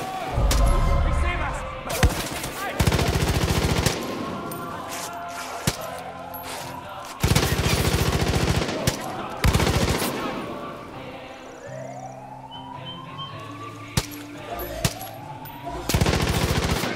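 Far Cry 5 gunfire erupts in repeated loud automatic bursts and scattered single shots across the stretch, with players talking in between and over the shooting.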